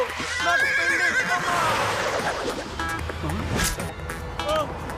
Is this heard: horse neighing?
yes